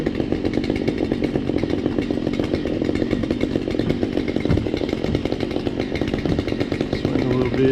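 Husqvarna 592xp chainsaws idle and rev loudly and continuously at a big tree-felling job, with a steady rough engine drone filling the whole stretch.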